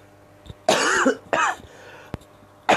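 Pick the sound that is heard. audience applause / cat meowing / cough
cough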